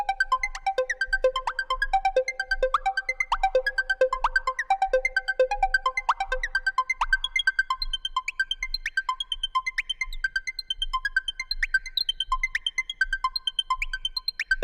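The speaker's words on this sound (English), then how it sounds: "I used this preset from GMS, and pretty much what I did was arpeggiating the main melody, and I added it an octave higher" Bright arpeggiated synth melody from a GMS preset in FL Studio, doubled an octave higher, plays in a steady repeating pattern with a soft low pulse underneath; the upper layer thins out halfway while the plucky arpeggio continues alone.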